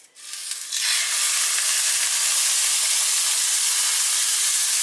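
A steak laid into a hot pan sets off a sudden loud, steady searing sizzle that rises within the first second and keeps up a dense, close hiss to the end.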